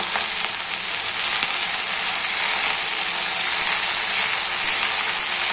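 Fenugreek leaves stirred while frying in a pan with peanuts, a continuous bright sizzle with soft stirring scrapes, close and steady throughout.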